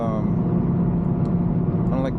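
A C5 Corvette rolls through traffic with a steady, low engine hum and road rumble heard from inside the cabin, continuous and fairly loud.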